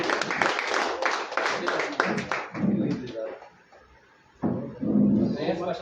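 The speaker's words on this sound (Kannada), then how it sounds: "ಸತೀಶ್ ಅವರು ಜೋರಾಗಿ ಚಪ್ಪಾಳೆ ಬರಲಿ." Crowd applause at a political party event announcing candidates for a Bengaluru civic election, a dense burst of clapping mixed with voices that fades, then swells again near the end.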